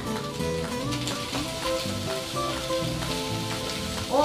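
Garlic being stir-fried with parsley for a bacon and dried-chili penne, a steady close sizzle with light clinks and scraping of a utensil in the pan, no talking.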